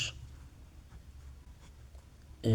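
Writing out seventh-grade math by hand, with faint scratchy pen or pencil strokes on paper in short intermittent bursts, quiet and close, against low background hum.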